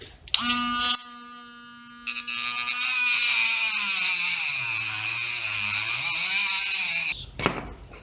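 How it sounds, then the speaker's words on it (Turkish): A small rotary cutting tool grinds through the excess plastic screw-hole tabs of a replacement fan for a soldering station's hot-air arm, a steady high whine running about six seconds after a brief opening burst, close and loud. "Bu delikleri bir keselim biz."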